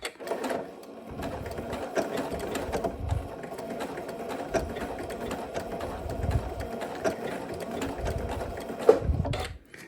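A sewing machine stitches an appliqué, running in a steady continuous drone close by, with short pauses where the work is pivoted between bursts of stitching.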